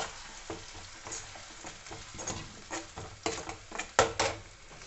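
Finely crushed tomatoes, two medium ones, sautéing in a pan for a kofta curry gravy, with soft sizzling and intermittent stirring scrapes that grow louder and more clattery toward the end, heard close up with no talking.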